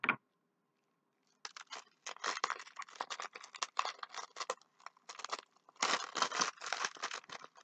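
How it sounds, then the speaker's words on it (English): Scissors snip and crinkle through an essential oil package, a burst of short, close cuts and crackles after a brief pause, with no talking. "I'm going to cut this open because this is a different type of essential oil than I usually get"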